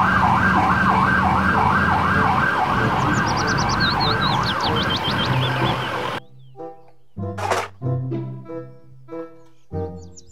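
A toy police car siren wails in a fast, repeating up-and-down pattern, loud and close. It cuts off abruptly partway through, leaving a few short tones and sparse beeps.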